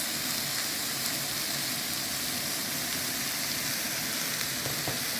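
Chicken and vegetables with red sweet pepper, oregano and cumin fry in a pan, giving a loud, dense, unbroken sizzle that crackles steadily throughout.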